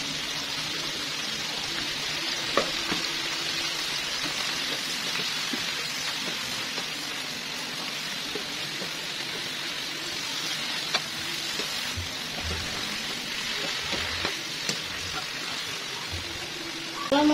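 Water spinach (kangkung) stir-fried with shrimp in a pan, a steady loud sizzle with occasional scrapes and taps of stirring throughout.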